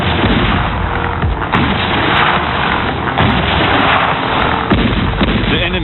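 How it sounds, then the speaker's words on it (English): Large French siege guns fire in a sustained, dense barrage, heavy booms and blasts overlapping continuously and loudly, with no pause and no voices. "On the 10th of October, the Allies opened fire."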